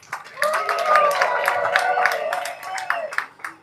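Audience clapping at a political party's official launch event: a steady wash of many hands applauding for several seconds, fairly close, with a voice speaking over it.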